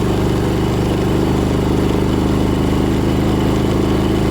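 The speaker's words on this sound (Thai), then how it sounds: "ฮอนด้าเวฟขึ้นด้วยเกียร์สองนะครับ" A Honda Wave motorcycle labours up a steep hill in second gear, its engine droning loud and steady with a strained, continuous mechanical tone and no pauses, close to the rider.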